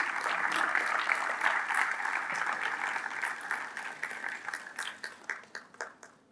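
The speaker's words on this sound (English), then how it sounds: "I think we have to give big round of applause to all these research scholars as well as the staff." An award ceremony audience applauds research scholars and staff in a dense, steady round of clapping that thins into scattered individual claps and fades out near the end.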